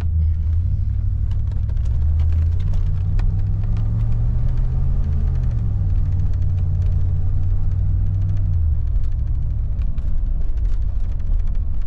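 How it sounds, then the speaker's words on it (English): Cabin sound of a car with an automatic transmission under way, a loud steady low engine and road rumble whose pitch rises and then drops as the transmission shifts, with no voices. "Transmission shifting fine. The 2 to 3 shift's a little lazy"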